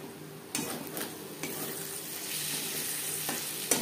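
Slit green chilli and chopped coriander stirred into hot frying oil for katla fish oil fry, a close hiss broken by a few metallic clinks of the spoon against the pan.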